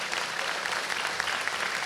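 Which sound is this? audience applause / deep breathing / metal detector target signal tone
audience applause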